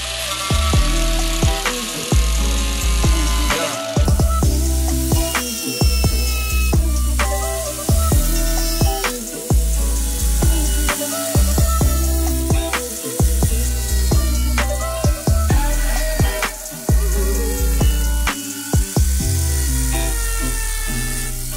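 Steady power sanding on a carbon fiber front lip for a Genesis Coupe, a continuous gritty whir with repeated short pauses and restarts through the whole stretch, close and fairly loud, with no voices.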